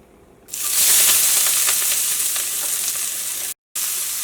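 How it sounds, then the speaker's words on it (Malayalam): Onion, ginger, green chili and curry leaves are dropped into hot oil and set off a loud sudden sizzle that hisses steadily, broken by one brief cut near the end. "ഇനി ഇതിലേക്ക് സവോളയും ഇഞ്ചിയും പച്ചമുളകും കറിവേപ്പിലയും ചേർക്കുക."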